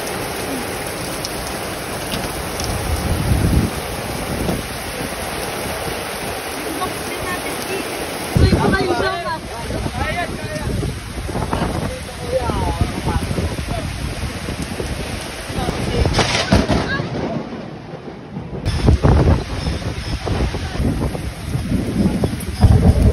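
Sudden heavy rain lashes down with gusting wind in a storm, a loud, continuous roar of downpour with wind buffeting the microphone, surging and easing, while a person talks at times underneath.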